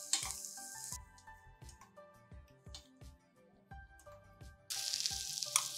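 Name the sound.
pumpkin pieces frying in ghee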